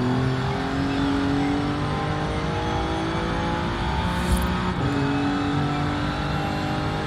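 Audi RS5 engine note from Forza Horizon 5, a steady loud drone with sustained harmonic tones that hold and shift slightly, with a brief bright swell near the middle and no talking.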